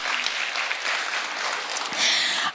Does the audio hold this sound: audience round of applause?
yes